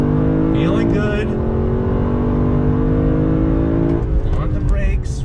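A 2019 Lexus LC 500 with a naturally aspirated V8 downshifts with a brief blip, then pulls hard under throttle, its loud close engine note climbing steadily through the run with a second rise near the end.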